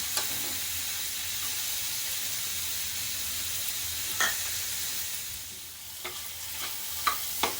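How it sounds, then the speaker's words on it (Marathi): Capsicum being stirred into paneer bhurji with softened tomato in a pan, giving a continuous hissing sizzle with a few sharp spatula scrapes and clinks toward the end. "मिक्स करून घेऊया आपण शिमला मिरची"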